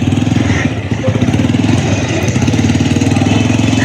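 An Apache 4V motorcycle engine pulls away slowly in first gear, giving a loud, close, steady pulsing thrum that stays even throughout.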